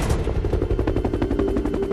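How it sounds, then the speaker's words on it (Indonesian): Rapid bursts of automatic gunfire in the 2007 film Next, a dense rattling volley of sharp cracks with echo, loud and continuous through the clip. "agen FBI mengetahui posisinya lalu memberondongnya dengan tembakan."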